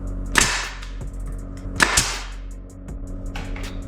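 Nail gun driving nails into cedar pickets while building a Christmas tree: two sharp, loud, close pneumatic bangs about one and a half seconds apart, followed by lighter knocks and a low steady hum.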